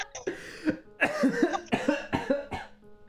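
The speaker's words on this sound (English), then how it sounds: "That's the second time somebody has made me cough laughing today." A person coughing while laughing, several harsh voiced coughs and wheezy laughs in a row, close and fairly loud, with no clear words.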